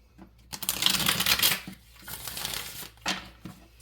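Tarot cards are shuffled in several quick riffling bursts with short pauses between them, close and crisp, with no talking.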